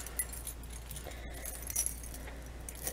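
A bunch of house keys and a room key jangle and clink together on a keychain, light metallic rattling close by throughout, with no talking.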